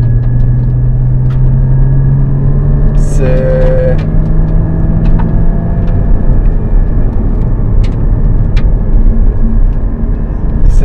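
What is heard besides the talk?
Porsche Cayman GT4 flat-six engine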